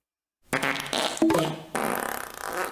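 A fart rings out as a rasping, buzzy blast of about two seconds, loud and close, breaking into a second sputtering burst near the end, with no talk over it.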